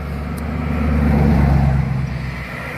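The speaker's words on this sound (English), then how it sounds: "There's traffic behind me." Road traffic passing behind on a roadside, a loud vehicle rumble swelling as it goes by and then easing off, with no talk.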